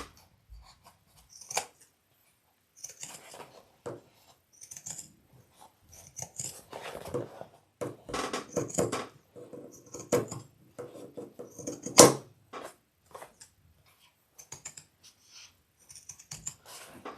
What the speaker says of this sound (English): I'm just going to get my pinking shears. Do a little bit of trimming right here.